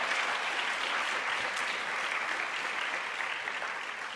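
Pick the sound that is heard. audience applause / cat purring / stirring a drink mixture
audience applause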